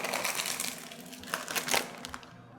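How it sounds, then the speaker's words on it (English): Barbecue Fritos chips being crushed inside their bag make close, crackling crunches and crinkles, with a louder burst of crushing near the end. "So I'm just crunching these chips up."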